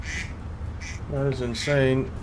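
A phone ringtone imitating a duck quacking sounds twice, loud and close, with someone speaking briefly before it.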